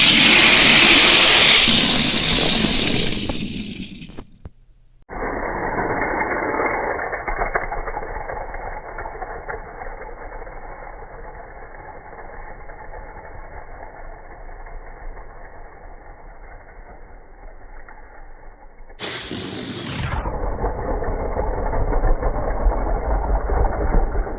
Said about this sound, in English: let you listen to the raw sound of the cars racing